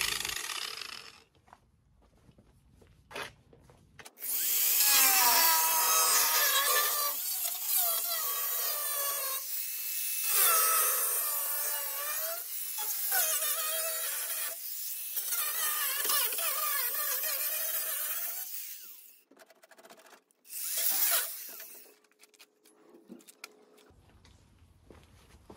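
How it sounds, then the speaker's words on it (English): Angle grinder cutting out rusty metal on a Volkswagen bus, a loud close high-pitched whine running for about fifteen seconds with shifting pitch as it bites, then stopping, followed by a short final burst and quiet handling noise. "I'm gonna get a grinder set up, we'll cut this out, see what it looks like."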